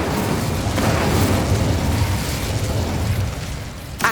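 An Incendio fire spell blasts out in the Hogwarts Legacy video game, a dense roaring whoosh of flame with a low rumbling body that holds steady for several seconds before fading slightly.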